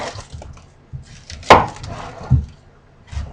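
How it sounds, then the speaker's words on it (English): A knife chops an onion on a wooden cutting board, several separate knocks at irregular intervals with one sharper crisp cut standing out, close and clear with no talking. "The first step is to cut an onion."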